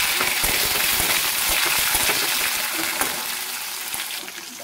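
Onions fry in a pan with whole cinnamon and cloves, a dense close sizzle with scattered stirring clicks that gradually fades toward the end.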